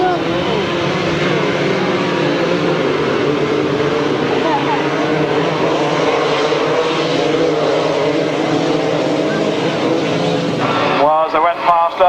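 Grasstrack racing motorcycles at the 1995 National Grasstrack Championship finals roar loudly and continuously as the pack runs close by, then the noise breaks up near the end while a commentator talks over it.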